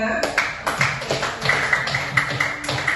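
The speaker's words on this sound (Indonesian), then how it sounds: "tepuk tangan untuk Najwa." Classroom applause for a student: a small group of pupils claps in a quick, uneven rhythm of close, bright taps, with some voices mixed in under the clapping throughout.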